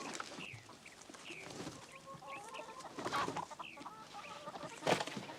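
A chicken clucks and squawks in a series of short, uneven calls, fairly faint and set against quiet background noise in a 1970 film scene.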